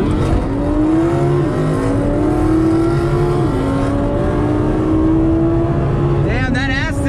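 An Audi R8 V10 AWD with a dual clutch drag races a V8 Aston Martin Vantage S, heard from inside a car as a loud engine note climbs steadily through several quick gear shifts.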